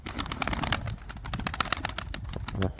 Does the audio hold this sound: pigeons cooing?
yes